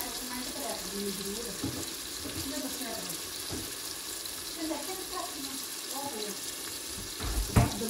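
A vegetable tadka for a carrot, potato and pea dish sizzles and fries in a pan with a steady crackle, with stirring clatter and a louder knock near the end.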